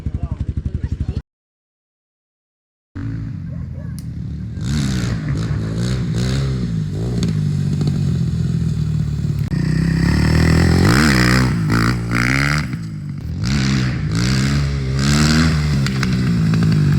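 A Kovi 300 PRO R 2025 motorcycle engine revs repeatedly, rising and falling in pitch with a rough throaty tone after a brief dropout, loud and near, with people talking over parts of it.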